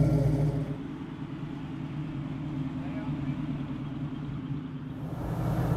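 A 1967 Ford Mustang Fastback engine rumbles steadily at idle, heard from inside the cockpit as a continuous low drone under ongoing talk.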